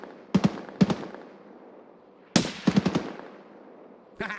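Gunfire in Escape from Tarkov on the Interchange map: two short bursts of sharp reports, then a longer rapid volley of several shots and a final single shot, loud and close with no talk over them.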